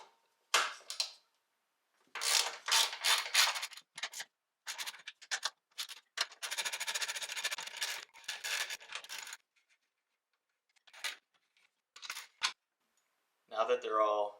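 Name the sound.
loosening strut top nuts on 2015 WRX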